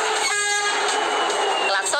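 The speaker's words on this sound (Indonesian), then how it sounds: "Klakson kereta selalu mampu memekakan telinga." A loud, sustained train horn blares continuously, a steady harmonic tone close by with rumbling noise underneath.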